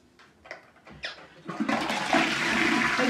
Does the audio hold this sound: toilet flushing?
yes